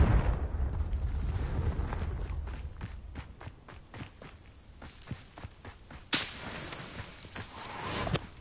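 A Confringo blasting spell in Hogwarts Legacy smashing a vase, heard as an initial explosive burst followed by a series of crisp cracking and debris impacts, then another sharp blast near the end.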